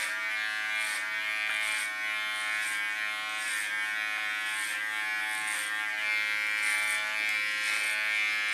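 Electric hair clippers with a clipper comb attached buzz steadily while cutting short hair, close and continuous. Short scraping strokes are heard through the hum as the blades move across the head.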